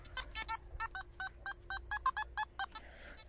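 A metal detector's series of short, evenly spaced electronic tones pulses rapidly for about three seconds, bright and steady in pitch, signalling a buried button.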